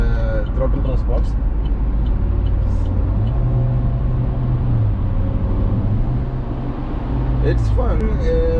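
A 2020 Maxus D90 seven-seat SUV in sport mode gives a steady, deep engine drone and road rumble from inside the cabin, with the engine note rising and falling midway and a voice faintly present.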